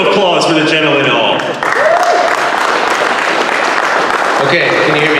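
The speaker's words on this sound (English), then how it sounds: "Round of applause for the gentleman all." A conference audience applauds a speaker, a steady broad patter of clapping that holds for several seconds while a voice talks over the start and end.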